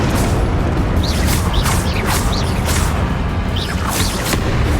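Confringo spell blasts in Hogwarts Legacy, a string of booming impacts and whooshing bursts over a loud, constant roar of combat, several hits spaced about a second apart.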